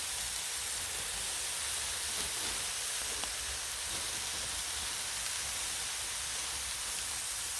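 Steam hisses steadily from smash burgers on a Blackstone griddle, a loud continuous broadband sizzle close by that holds without pause for several seconds.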